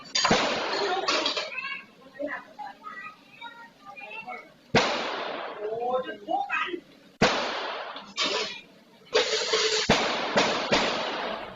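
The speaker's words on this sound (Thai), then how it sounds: "แล้ววันดีคืนดีเนี่ย เอาปืนมายิงขู่ด้วย" Warning gunshots fired in front of a shop, caught on CCTV: several sharp, loud broadband bangs in separate bursts, with voices and other sounds in between.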